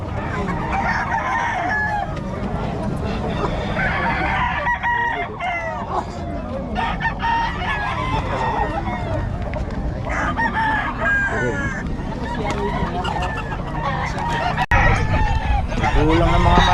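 Roosters crowing repeatedly at a Bocaue chicken market, several birds overlapping with clucking amid a busy, noisy crowd, with people talking throughout.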